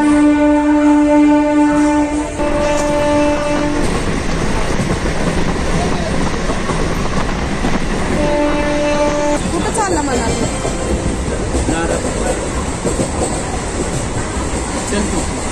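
A train runs on rails with a loud, close, continuous rumble and rattle, and voices are heard faintly beneath the noise.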